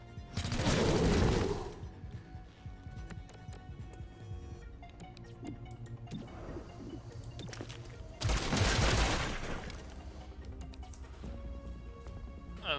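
Gunfire in XCOM: Chimera Squad: two loud bursts of rapid shots, one near the start and one later, each lasting a couple of seconds over a steady background of game music.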